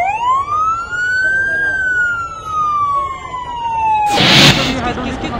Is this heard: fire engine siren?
yes